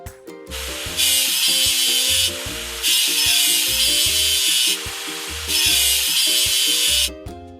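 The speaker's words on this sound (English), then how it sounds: "Let's get rid of the machine's rust." Rust scrubbed off a toy machine: three long, bright, rasping scrubbing strokes, loud and close, separated by short pauses, with a light rhythmic backing underneath.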